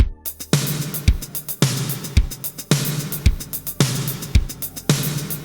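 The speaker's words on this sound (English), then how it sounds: "And with every other snare hit pitched up," A steady drum loop from PS1 music software in which every other snare hit is pitched up, giving alternating higher snares over punchy kicks and busy hi-hats, loud and close, repeating several bars with no talking.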